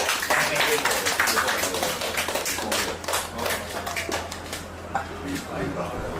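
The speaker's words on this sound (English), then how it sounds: "a round of applause for them" Loud, steady applause from a crowd at a cycling esports championship final in Singapore, lots of hands clapping together and a voice talking over it.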